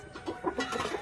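A rooster on a backyard country-chicken farm clucks in a short run of close, repeated throaty calls, with no voices over it.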